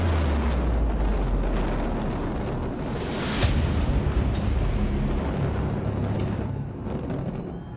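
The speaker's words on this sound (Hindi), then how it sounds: "जब धमाका हुआ तो कुछ यूं था माहौल।" A loud, sustained roar of the Twin Towers building demolition blast, rumbling and crackling continuously as debris falls, with a sharper burst partway through.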